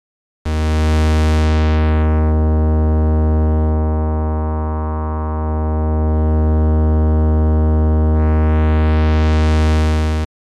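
A sustained synthesizer tone runs through a Moog-style four-pole resonant low-pass filter. Its bright upper harmonics close down to a muffled, hollow tone, then sweep back open. The note stays loud and continuous for about ten seconds.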